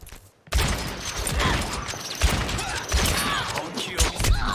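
A deflected shot strikes back in a round of Overwatch: a sudden loud bang breaks a brief silence, followed by dense, busy combat noise with thumps and clatter throughout.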